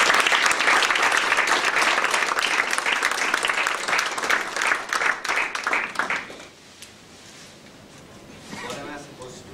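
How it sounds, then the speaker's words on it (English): Audience at an Articrafts event giving a speaker a big round of applause, loud dense clapping for about six seconds before fading out, followed by quieter room sound and a few faint voices. "Please give him a big round of applause."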